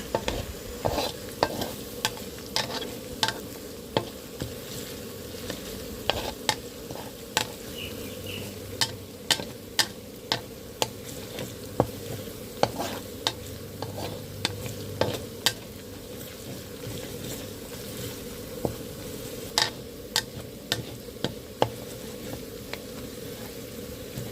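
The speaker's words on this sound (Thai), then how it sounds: "กระเทียมได้ที่แล้วเราก็จะเอาหมูลงไปผัดเลยนะคะ" Pork stir-fried with garlic in a pan for a galangal-flower dish: a continuous close sizzle broken by frequent sharp clanks and scrapes of a spatula tossing the meat, with no one speaking.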